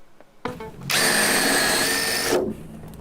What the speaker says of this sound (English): I'm drilling the rivets out of this piece of aluminium that was on the roof